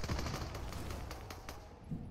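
Distant gunfire from a weapon in the video game Fortnite crackles as a rapid burst of faint shots over soft background noise, trailing off before a sudden click at the end.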